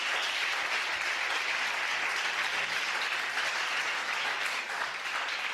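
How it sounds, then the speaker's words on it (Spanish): A church congregation gives a dense, continuous wash of applause during a sermon. It is steady and moderately distant, with no distinct voices on top. "Un aplauso a nuestro Salvador Jesucristo."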